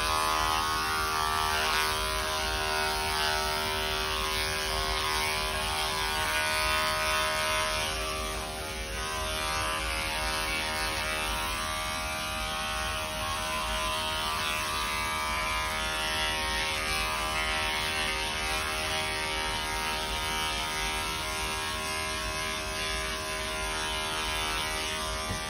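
Electric clippers run continuously on an Airedale Terrier's coat, a steady close buzzing drone with little change and no talking.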